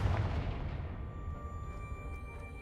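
A Confringo fire spell bursts in Hogwarts Legacy, one booming explosion at the start that fades into a decaying rumble with faint game tones lingering.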